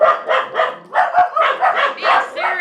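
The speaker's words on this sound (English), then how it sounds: "hey, stop barking" A dog barking close by in a series of rapid, loud, evenly spaced barks with a few yips, continuing for a couple of seconds.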